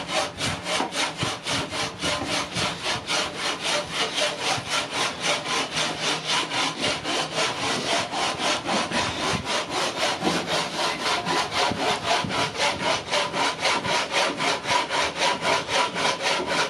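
A hand saw cutting through wood at a hilltop campsite, with steady rhythmic back-and-forth strokes that are close and loud and keep going without a break, and no talk.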